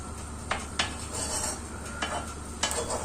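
Butter sizzles softly as it melts in a pan, a quiet steady hiss broken by a few sharp clinks of a spoon or utensil against the pan.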